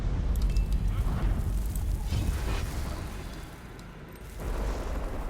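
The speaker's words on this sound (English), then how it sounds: "That bloodstone explosion seemed to trigger some sort of magical echo" A deep, continuous rumbling tremor follows a bloodstone explosion in Guild Wars 2, loud and low throughout, easing briefly before surging again near the end.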